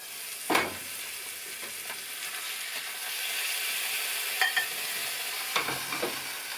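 Potatoes fry to crispy in a pan in an off-grid log cabin kitchen, with a steady soft sizzle broken by a few sharp scraping stirs and clinks of a utensil.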